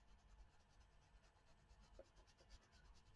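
Woomer crayons colouring on paper, with faint, close, rapid scratchy strokes in a steady back-and-forth rhythm and a soft knock at the very end.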